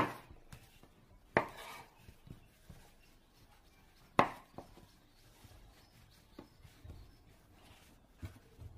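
A knife cuts rolled chapati dough into pieces on a board, giving a few sharp, close taps and scrapes with quiet pauses in between.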